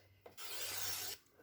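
A paper trimmer blade slides once across a sheet of card stock, a short, close rasping swipe lasting under a second against a quiet room.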